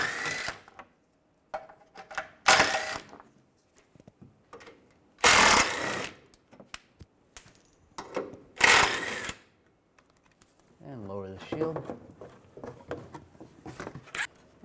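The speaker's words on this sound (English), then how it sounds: "Take these four bolts out." A power socket driver with a 15 mm socket runs in several short, loud bursts as four bolts come off a shield on a 2007–2013 Chevrolet Silverado. Quieter clicks and handling sounds fall between the bursts.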